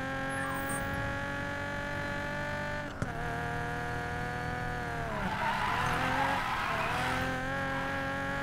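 In the racing game Need for Speed Payback, a car drifts with a droning, revving engine and tire squeal that swells into a long, hissing skid in the second half, close and loud, with no talk.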